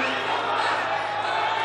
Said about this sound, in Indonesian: Tepuk tangan yang boleh hadirin sekalian untuk seluruh pasangan calon.